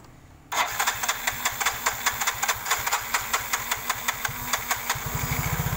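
A small scooter engine putters at idle with a steady, loping rhythm, running unevenly before briefly revving and sputtering as it stalls on its own.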